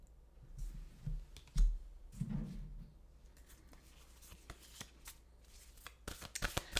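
A deck of oracle cards being shuffled nearby, with soft riffling and flicking clicks in uneven bursts and a few sharper snaps toward the end, no voice over it.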